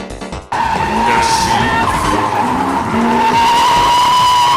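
A modified Lexus project car with adjustable suspension revs and squeals its tyres as it pulls away, a loud sustained engine roar with rising tone and scraping tyre noise close by.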